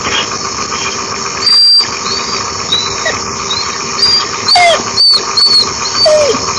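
A dog whimpers and squeals in several short, loud, high-pitched bursts over a steady background hum, clustered mostly in the second half.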